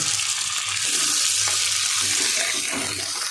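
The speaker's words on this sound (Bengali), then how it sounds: "মাছ আর পেঁয়াজ একসঙ্গেই ভাজা হচ্ছে।" Rohu fish pieces and onion frying together in a pan, giving a continuous loud hiss and sizzle of hot oil with no talk.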